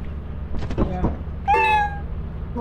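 In the video game Lethal Company, a cat creature lets out one clear meow that slides and fades, following a few short bursts of speech, with steady low game noise underneath.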